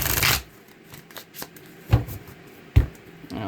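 Tarot cards riffled in a quick burst, followed by a few softer taps and shuffles of the deck, close and quiet.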